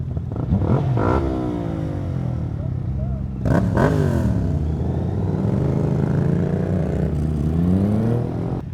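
A Yamaha MT-07 motorcycle engine revs at a bike dealership, its sweeping pitch rising and falling near the microphone under steady chatter and loud ambient noise.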